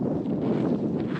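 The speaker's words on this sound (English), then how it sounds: "Lanzarote is always quite windy, but this is next level." Strong wind buffets the microphone on a hike on Lanzarote near Caldera de Los Cuervos, a continuous rough, rumbling roar close up with no pauses.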